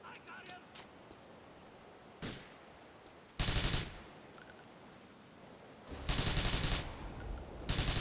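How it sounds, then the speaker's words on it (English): Gunfire in Grand Theft Auto IV, where gang members are shot: a few scattered shots, then two loud bursts of rapid automatic fire, each lasting about a second, set over a low game background. "Let's just shoot these guys once again."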